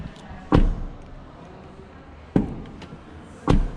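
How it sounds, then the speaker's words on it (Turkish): Three solid, heavy thuds of a 2023 Kia EV6 GT-Line car door shutting, spaced apart, each a deep close impact with a short tail, over quiet room tone. "Çok tok bir şekilde açılıp kapanıyor."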